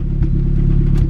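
A turbocharged Honda D16Y7 engine idles steadily, running lean, with a continuous close, loud low rumble and no voices.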